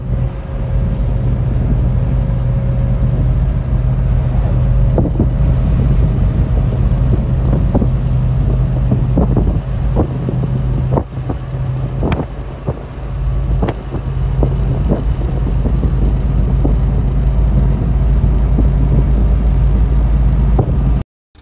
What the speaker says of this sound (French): le bruit du moteur, en espérant que ce soit pas un truc interne